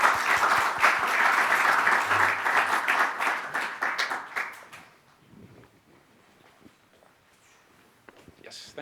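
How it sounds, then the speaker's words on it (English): Conference audience applause for panelists at a hydrogen technology event, a full, close burst of clapping that tapers off after about five seconds into sparse claps and quiet room noise. "I think they deserve an applause."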